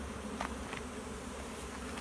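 Bees swarming during a swarm catch, a steady dense buzz of many insects close around, continuous for the whole stretch with a couple of brief louder passes.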